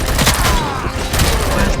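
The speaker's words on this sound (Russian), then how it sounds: "Кто стреляет?" Gunfire in the video game RoboCop: Rogue City, a rapid burst of loud close shots in quick succession, with a voice speaking briefly over it.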